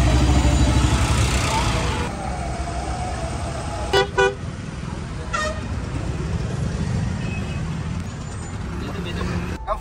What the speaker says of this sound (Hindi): इतने सारे खतरनाक ट्रैफिक से हम लोग निकल पड़े भाई, क्या नेक्स्ट लेवल ट्रैफिक था भाई।